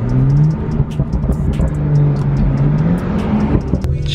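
A BMW 435i pulls away, its engine droning and rising in pitch, loud and close, with sharp ticking clicks over the steady engine note.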